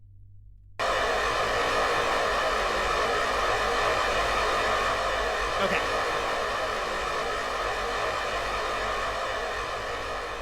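Rocket engines in Kerbal Space Program kick in suddenly after a short quiet moment, then hold a loud, steady roaring hiss that runs on without letup, with a brief spoken word over it.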